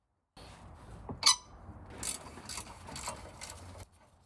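A wrench working a metal bolt loose on a Mk4 Volkswagen GTI, giving quiet ratcheting clicks and clanks in an irregular sequence with a sharper metallic squeak near the start.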